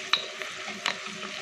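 Meat with black pepper and Maggi seasoning stirred in a pan, two quick metallic spoon scrapes over a faint sizzle, brief and close.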